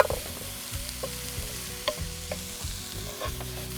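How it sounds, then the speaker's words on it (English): Camel chorizo sausage sizzles in a pan while a utensil stirs it, scraping and clinking in irregular bursts over a steady fry, close up with no voices. "Start frying up."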